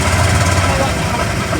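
A motorcycle engine idles steadily after being flooded by water, with a low, rough, continuous rumble, close and loud, with people talking over it.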